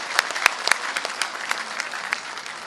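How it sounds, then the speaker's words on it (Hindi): A crowd at a Delhi public event claps loudly, a brisk burst of applause with a few sharp nearby claps popping out over the thick continuous patter, lasting the whole short stretch without speech. "एक बार जोरदार तालियां"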